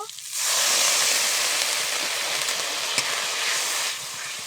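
Spices cooking with added water in a pan for a vegetarian eggplant curry, a sudden loud hissing sizzle that swells in and holds steady before easing off at the end.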